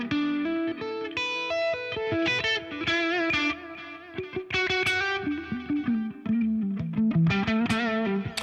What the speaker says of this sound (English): So you can have a nice kind of plinky plonky kind of clean sound, and then you can sort of add a bit more drive when you pick harder.